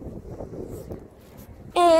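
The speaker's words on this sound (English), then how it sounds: "I know it's windy." Low, gusty wind buffets the microphone in a steady rumble, then a sudden louder tonal burst cuts in at the very end.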